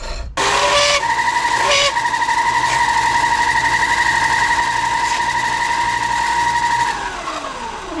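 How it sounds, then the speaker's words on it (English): Loud, steady drilling of a hole for a handbrake cable stop on a Jag Special, a sustained whining tone that runs for about six seconds after a brief start and stop, then fades out. "And so let's bore this hole."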